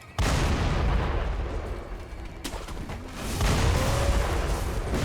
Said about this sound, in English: And then you were firing the cannon.